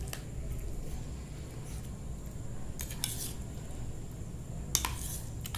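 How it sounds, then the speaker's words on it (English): A spoon stirs curd together with sev and sauce over a dahi samosa chaat, giving a few soft, close squishing and scraping strokes with light clinks against the dish over a low background hum. "I'm mixing the curd with the save and the sauce"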